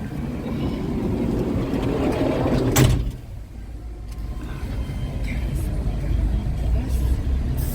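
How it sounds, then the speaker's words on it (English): A Mambo bus engine rumbles steadily while passengers board in Willemstad, Curaçao, with a brief door thump and hiss midway and the low drone continuing after. "Okay, so we're getting on the bus."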